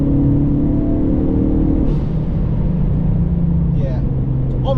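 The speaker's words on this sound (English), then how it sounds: "It just is exhaust noise" A Ford Focus ST mk3 exhaust drones loudly and steadily from inside the car, a constant low rumble with shifting engine tones and no pops or bangs.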